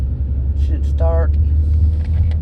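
A 2010 BMW 328i driving at about 15 to 20 mph, with a steady low road and engine rumble and a brief tonal whine or hum rising over it near the middle, heard from inside the car.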